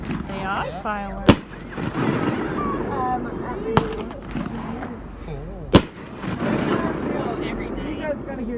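Fireworks bursting at night near a cruise ship, a few sharp distant booms heard under continuous chatter and a voice.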